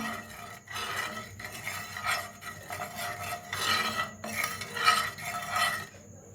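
Lemon and green chilli pickle with pickle masala and a pinch of hing is mixed by hand, giving rhythmic scraping and rubbing strokes broken by short pauses, close and moderately loud.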